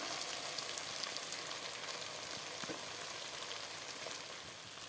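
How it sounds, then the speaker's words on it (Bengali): Spice paste and chopped tomatoes frying together in a pan for a catla fish curry, giving a continuous even crackling sizzle with tiny pops, moderately quiet and without voices. "মশলা কষানো হয়ে গেল তারপর কেটে রাখা টমেটোগুলিও দিয়ে দিলাম"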